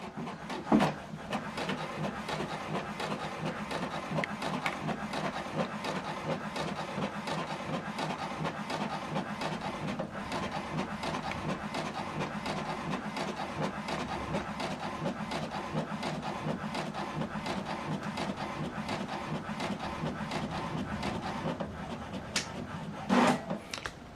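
An HP Deskjet 2820e printer printing a document, a steady soft mechanical whirring and rubbing of the paper feed throughout, with a couple of short clicks near the end.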